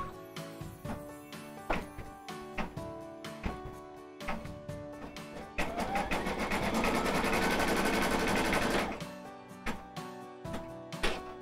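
An embroidery machine stitches an applique design in a rapid mechanical chatter of needle strokes, with short bursts at first and then a sustained, louder run of continuous stitching before it pauses and resumes in bursts.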